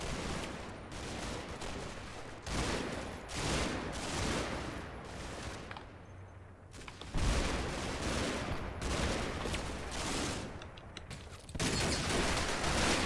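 Sustained WWII-era gunfire in Combat Mission Battle for Normandy's hedgerow fighting: bursts of rifle and machine-gun fire with heavier booms, loud and nearly continuous with brief lulls, no voices.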